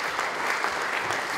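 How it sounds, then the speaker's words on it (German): Steady audience applause at an information event, a continuous wash of many hands clapping at even loudness, fairly close and with no talking over it. "Ja, ich denke, das ist Applaus wert."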